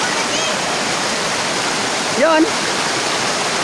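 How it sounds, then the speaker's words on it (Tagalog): A river flows steadily as a broad, continuous rush of water close by, with a brief voice speaking near the end. "tingnan nyo kung gaano kaganda ang ilog"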